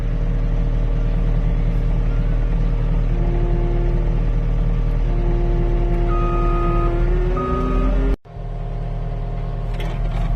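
A straight truck loaded at a muddy logging site runs with a steady, loud low engine rumble and rising gear tones as it pulls away, then a brief cutoff followed by quieter idling.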